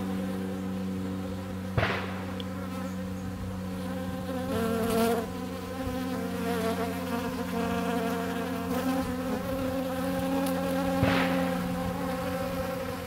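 Honey bees buzzing steadily at a weak hive troubled by small hive beetle larvae, a dense continuous drone with a few brief knocks, no voices.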